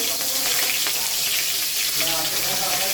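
Small shrimp frying in hot oil in a kadai give a steady, close, bright sizzle that holds evenly throughout with no speech over it.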